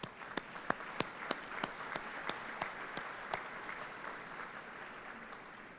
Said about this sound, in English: a round of applause for those individuals